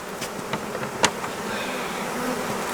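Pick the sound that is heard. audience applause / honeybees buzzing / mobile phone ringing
honeybees buzzing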